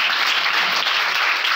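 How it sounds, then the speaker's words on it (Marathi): Students in a classroom clap together in a brief, dense burst of applause, loud and close. "याच्यासाठी जोरदार टाळ्या वाजवा पहिले."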